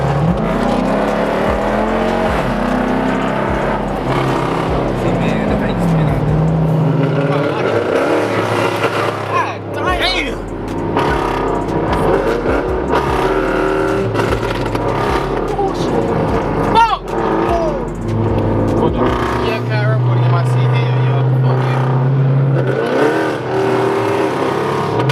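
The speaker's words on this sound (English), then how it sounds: "we finna race on the scat and that little green HEMI right here" A Dodge Scat Pack and a green HEMI muscle car rumble and rev on a city street, with deep engine drones rising and falling under loud, excited voices talking over them throughout.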